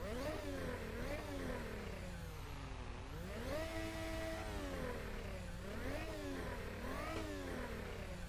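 A Formula Hybrid X 2021 racing car engine in Assetto Corsa revs up and down repeatedly, rising and falling in pitch with a thin, raspy tone and constant mechanical whine.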